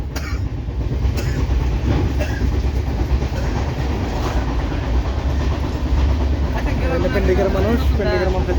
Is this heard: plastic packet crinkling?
no